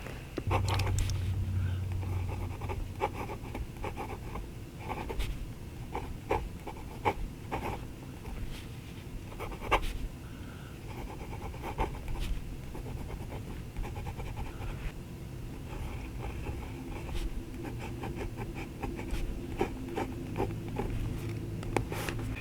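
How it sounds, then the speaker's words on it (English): A medium nib fountain pen scratches across paper in quick strokes and taps, with a steady rhythmic rasp and small pauses, close and fairly quiet throughout. "So this medium nib, which I do have a few of them, writes exactly the way I thought it would write."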